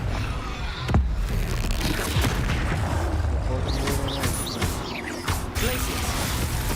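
Confringo blasting spell in Hogwarts Legacy, a fiery burst among a busy battle mix of crashes and magical whooshes, with a person talking over the din.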